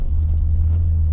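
A car with an F1-style automated transmission creeps at low speed as the clutch struggles to engage, giving a steady, loud low engine rumble with no break.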